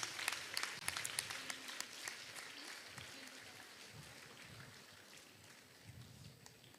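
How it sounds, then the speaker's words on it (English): Students applaud a prize winner at an international seminar at a women's college, a steady wash of clapping through the whole stretch, fairly distant and slowly fading, with a few louder claps near the start. "Students, give your big round of applause."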